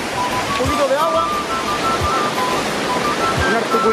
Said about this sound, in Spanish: Vamos a tener que pasar por este lugar donde cae un poquito de agua.